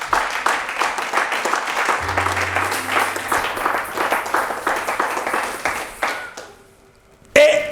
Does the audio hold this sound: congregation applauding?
yes